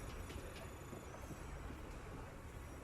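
Train in the Lost Odyssey video game, a continuous low rumbling roll with faint whistling wind overtones, steady and unbroken throughout.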